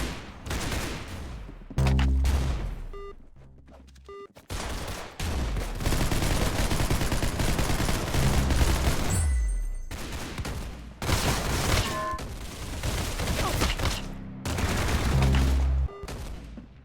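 Bursts of rapid gunfire from the Roblox shooter game Arsenal rattle in loud clusters separated by short gaps, with no speech.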